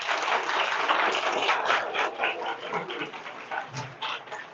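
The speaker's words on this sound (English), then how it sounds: "let's give them a round of applause" Steady round of applause from an audience at a talk event, a dense continuous patter of many hands that holds for several seconds and then tapers slightly.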